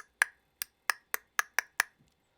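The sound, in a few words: tongue click on roof of mouth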